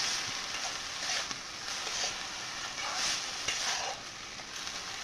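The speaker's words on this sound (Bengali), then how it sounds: "একটুখানি নাড়াচাড়া করে নেব।" Radish greens (mulo shak) being stirred in a pan, a steady sizzle and frying hiss with soft scraping strokes of the spoon repeating every second or so, close and even, with no talk.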